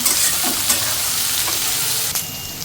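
Green chilies fry in hot oil for a jackfruit curry with spices, ginger and garlic, giving a loud, close, continuous sizzle broken by occasional stirring scrapes, with no talking.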